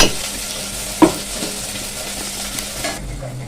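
Tempering for a fish curry fries loudly in a pan. A constant close sizzle runs throughout, broken by a single knock of the spoon early on and light stirring scrapes.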